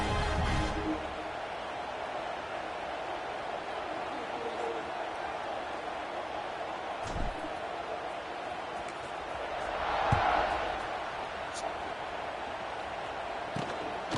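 Stadium crowd in the College Football 26 video game keeps up a steady, dense murmur throughout, swelling slightly near the middle, with a commentator speaking over it.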